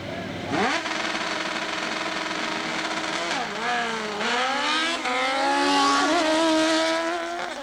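Super Pro and Pro Eliminator drag race cars at Southeastern Dragway, a loud engine roar rising from the launch and revving through shifting pitches as the cars pull away, steady and close.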